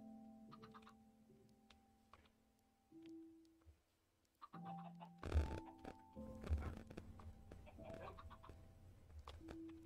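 Chickens in the video game Minecraft cluck in short, scattered bursts at low level, mixed with other game sounds and a few brief louder thumps.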